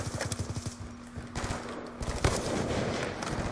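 Rapid bursts of video game gunfire crackle over repeated clip-clop hoofbeats and a steady low hum. The shots come in quick clusters during the first half, then give way to a denser, rougher background.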